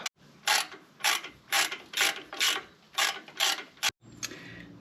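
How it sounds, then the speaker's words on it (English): A Jeep JLU Rubicon steering damper being loosened with a 3/16 Allen wrench: about eight quick, evenly spaced metallic ratcheting bursts, close and clear, ending in a short final click. "we just need to loosen our steering dampener as well so that we can turn it freely"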